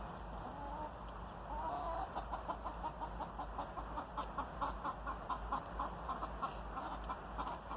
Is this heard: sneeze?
no